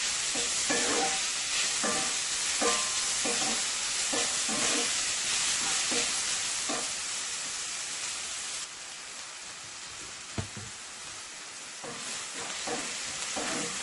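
Onion and garlic sauté in a pot with the shrimp curry and eddoes, giving a steady loud sizzle with occasional stirring scrapes throughout, without any talk.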